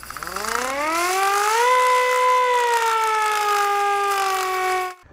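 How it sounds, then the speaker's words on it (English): A loud World War II Japanese mechanical air raid siren winds up from a low pitch to a steady wail, holds for several seconds, then cuts off abruptly. "A World War II Japanese air raid siren"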